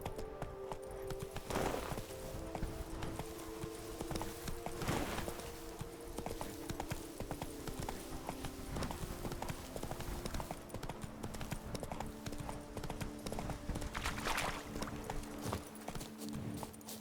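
Horse hooves clip-clopping at a gallop in The Witcher 3: Wild Hunt, Blood and Wine, a steady rapid beat of close game hoofbeats running throughout with background game ambience.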